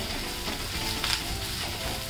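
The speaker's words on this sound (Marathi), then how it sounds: "बारीक गॅसवर आपल्याला ना हे चांगलं व्यवस्थित परतून घ्यायचं आहे" Onion frying with a ground thecha of green chili, garlic and peanuts over a low flame, a steady close sizzle with faint stirring and no talk.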